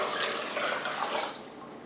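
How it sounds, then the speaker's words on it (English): Water poured from a tap into a pan to make turkey brine, a continuous splashing, trickling fill with slight surges and a small drip near the end, close by. "I'm going to add 4 more cups of water."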